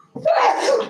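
A single short, sharp sneeze bursts out abruptly, loud and close, with nothing else around it.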